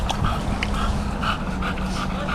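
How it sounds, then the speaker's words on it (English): Small dog beside a riverbank on the River Hamble, giving soft whimpers and brief yips with some panting, close by, over a steady background hum. "That little doggy's come over to see us."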